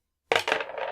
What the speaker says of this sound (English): Roll both dice.